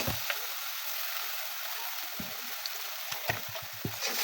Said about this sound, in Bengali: এখানে সব ধরনের মশলা দিয়ে দিলাম একটু কষিয়ে নেব